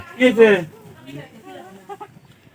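A goat gives one loud, close bleat at the start, followed by softer, fainter vocal sounds that trail off.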